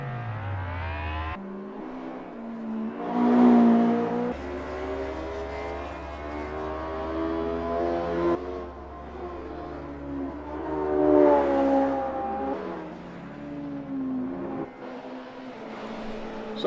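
A race car engine in a racing video game during a lap of the Nürburgring, pushed hard: a steady, loud, harmonic engine drone that swells and dips twice as the revs climb and fall, with no voices over it.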